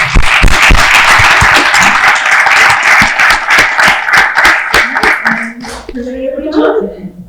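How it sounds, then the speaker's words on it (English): Loud applause from an audience for a panel at a small business week event, close sharp claps in a dense burst that thins out and fades toward the end as talking takes over. "Let's give a round of applause."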